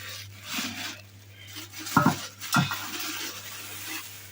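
A large 12-litre cooking pot is handled in a kitchen, giving two distinct metallic knocks in quick succession over a low, steady background hum.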